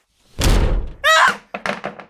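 A sudden heavy bang strikes a door, one loud booming thud followed by a short rattling series of fainter knocks and clatters in a quiet room.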